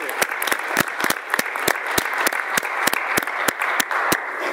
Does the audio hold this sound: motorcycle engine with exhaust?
no